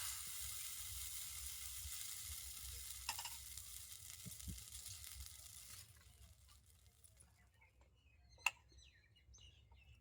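A ladle of batter hits an unoiled pan for jali chitoi pitha, giving a soft hissing sizzle that fades over several seconds, then a sharp utensil tap near the end.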